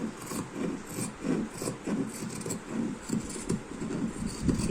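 Scissors cutting cloth along a marked line while tailoring a garment, a close, rhythmic series of rasping snips at a steady pace, about ten cuts with no talking.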